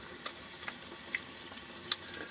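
Beans and lard heat in a pan with a soft, continuous sizzle close by, broken by a few small crackling pops.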